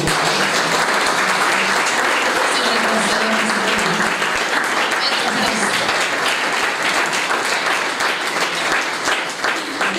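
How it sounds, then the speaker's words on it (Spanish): An audience at a parents' workshop gives a sustained round of applause, dense and fairly loud from start to finish with faint murmuring voices underneath. "Le damos un aplauso."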